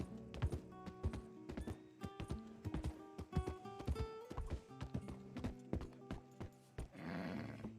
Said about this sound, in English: I just heard a horse